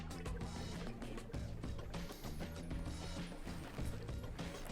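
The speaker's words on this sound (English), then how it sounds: "we're just tightening up these screws" Screws being tightened on the rear brake caliper of a VanPowers City Vanture e-bike during assembly, a steady close mechanical ratcheting and clicking of a tool that runs continuously with no talk.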